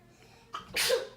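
A single sneeze, close and fairly loud: a short sharp intake followed by a bursting, hissy release.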